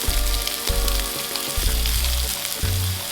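Lamb chops sear in a hot pan, giving a steady loud sizzle and crackle of fat with occasional low thumps and pops, and no voices over it.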